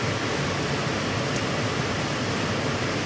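Running water rushes steadily and evenly over work surfaces being rinsed down before sowing orchid seed, a loud continuous hiss with no pauses.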